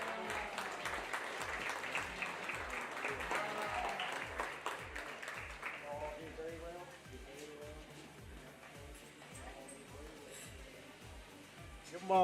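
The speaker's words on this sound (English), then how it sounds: "Give them all another big round of applause." Applause from an audience at a county youth expo livestock show, greeting the junior champion showman: a steady wash of many hands clapping, moderately distant, with a regular low thumping running beneath it and voices talking faintly throughout.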